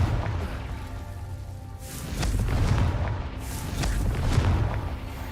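Deep booming blasts from the Confringo spell in Hogwarts Legacy roll out over a rumbling game soundscape, with two or three swelling explosive surges and crackling debris in the latter half, moderately loud.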